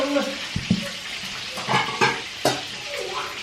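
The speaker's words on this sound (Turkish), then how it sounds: "Tavuk kızartıyorum." Chicken sizzles and crackles in hot oil, a steady frying hiss broken by a few clinks and stirring scrapes of utensils.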